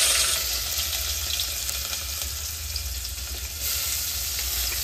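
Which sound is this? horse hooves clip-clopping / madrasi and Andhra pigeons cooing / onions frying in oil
onions frying in oil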